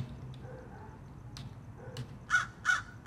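A crow caws in the video game Hello Neighbor, three loud harsh caws near the end, spaced about a beat apart, after quieter clicks and faint background hum.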